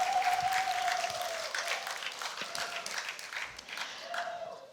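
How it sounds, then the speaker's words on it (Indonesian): Audience applause for chairman candidates at a debate in a hall, moderately loud continuous clapping with occasional tonal sounds over it. "boleh kita berikan tepuk tangan sekali lagi kepada seluruh calon ketua umum"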